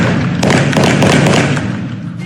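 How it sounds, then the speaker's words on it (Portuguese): Bursts of gunfire during a criminal shootout in a residential area, heard as a dense cluster of loud, sharp thuds and cracks over about two seconds. "Moradores em meio ao fogo cruzado de criminosos"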